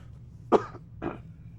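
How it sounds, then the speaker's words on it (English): Two short, harsh coughs close to the mic, the first louder, separated by a brief pause against a quiet background. "My cough is getting worse."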